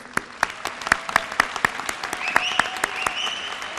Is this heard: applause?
yes